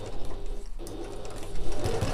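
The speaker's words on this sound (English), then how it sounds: "I am going to back stitch at the start and the end just to be a bit extra secure." A sewing machine back stitches a quarter-inch seam on a fabric sack, running steadily and fairly close, with a brief pause in the stitching partway through before it resumes.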